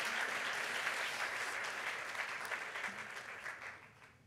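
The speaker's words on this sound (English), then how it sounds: "Round of applause for the girls coming down." A school assembly audience applauds steadily as girls come down to join the stage, a dense, sustained clatter of many hands that fades slightly toward the end.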